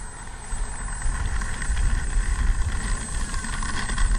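A Kavan Bristell B-23 RC model airplane flies overhead, its electric motor and propeller giving a steady whirring drone with a thin high whine, swelling slightly as it passes and holding moderately loud to the end.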